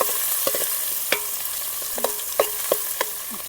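Chopped onions and curry leaves frying in oil in a pan for a Gujarati drumstick kadhi, a steady loud sizzle with sharp scattered clinks and scrapes of stirring, no voices.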